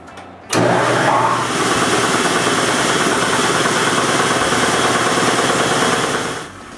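A large motor in a woodworking shop, fitted with a hose and set on casters, kicks on with a sudden onset and then runs at a steady, loud, broadband roar until it cuts off near the end.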